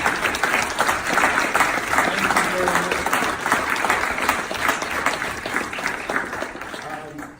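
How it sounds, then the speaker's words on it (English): A standing crowd at an Akron Alphas scholarship breakfast gives award recipients a round of applause, steady many-handed clapping close and loud for several seconds, with a voice speaking briefly over it. "I want to just give you a round of applause"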